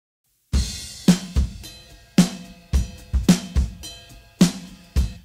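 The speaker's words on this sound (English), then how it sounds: "You can hear that the room mics really glue the drums together." Mixed drum kit with room microphones blended in plays a loose pattern of about a dozen kick, snare and cymbal hits, each hit carrying a fuller, longer ambient tail.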